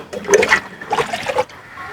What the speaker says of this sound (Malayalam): നമ്മൾ ഒരു മഗ്ഗിലാണ് വെള്ളം ഫില്ല് ചെയ്യുന്നത്.